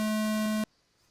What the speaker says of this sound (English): That's the sound of the tone.